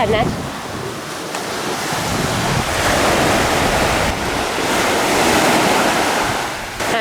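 Sea waves crash and wash continuously on a holiday beach, a loud, steady roar of surf with wind buffeting the microphone.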